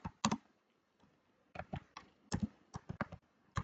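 Distinct keystrokes on a computer keyboard, typed in short irregular bursts of close, crisp taps with brief pauses between clusters, no talking over them.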